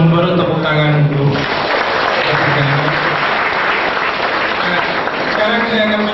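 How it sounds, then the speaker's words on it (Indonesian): Applause for three panel speakers at a reunion discussion in Jakarta erupts in a hall, a loud dense clapping burst lasting several seconds, with a speaker talking just before and after it. "Terima kasih untuk ketiga narasumber, tepuk tangan dulu."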